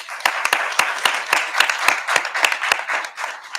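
Audience applause at a school board of education meeting, welcoming new administrators: steady, scattered hand claps from a modest crowd, fairly close and continuous, with no talking.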